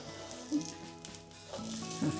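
Ellu holige, a sesame-filled flatbread, flipped and cooking on a pan, with a soft steady sizzle and a couple of faint taps of the flip, close and quiet.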